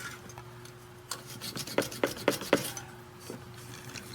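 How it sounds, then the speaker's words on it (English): A metal plate being roughened by hand to strip tarnish and dirt before soldering a home-made pendant, quiet rasping strokes with a run of four sharper scrapes in the middle, close and alone. "I'm going to take the plate and roughen it up and remove any tarnish, any dirt"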